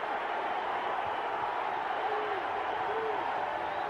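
Cheering and whooping from the boxing match crowd at Pernell Whitaker vs. Greg Haugen, a steady dense roar held at a distance throughout, with a commentator talking over it.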